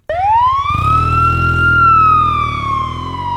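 A police motorcycle siren wails loud and close, sweeping up in pitch and holding a long steady tone over a low engine rumble, at night on a dark road. No one speaks.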